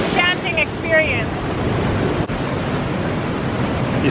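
Ocean surf against a rocky shoreline below cliffs, a steady broadband wash with wind noise, and brief talking near the start.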